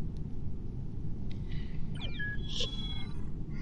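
A cat gives a short, faint meow, then a second thin rising-and-falling cry over a steady low rumble of background noise.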